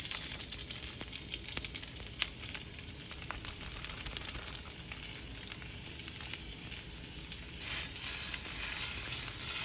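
A pound each of Italian sausage and ground beef sizzles steadily in a pan for a meat sauce, a dense continuous crackle with scattered sharper pops and light stirring scrapes, close and fairly loud with no talking.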